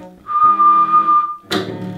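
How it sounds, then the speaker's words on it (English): A single sustained whistled note, used as a D pitch reference while tuning a cello, held for about a second and followed by a short knock. "So I'm going to whistle that."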